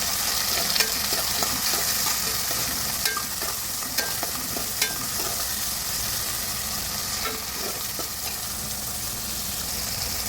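Tomatoes sautéing in a pan for idli kurma give a steady frying sizzle, with clicks and scrapes of stirring scattered through it and no voice.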